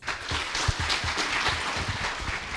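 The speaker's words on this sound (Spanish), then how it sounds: "pido un fuerte aplauso" An audience at a talk on reading applauds a guest speaker, a steady wash of many hands clapping with a few sharper individual claps, sustained throughout.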